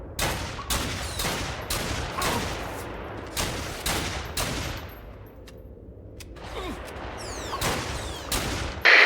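Rapid bursts of gunfire in the Fallen Earth online game, with repeated sharp volleys and clattering shots fired across much of the stretch and a short lull in the middle, mixed with background game noise.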